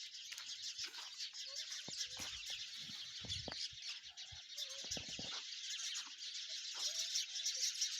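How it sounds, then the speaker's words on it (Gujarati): A flock of house sparrows chirps in a dense, continuous chorus over a lemon farm, faint and distant, with occasional low thumps and rustles. "અને તમને આ સકલાઓનું કલરવ સાંભળવાની પણ મજા આવશે."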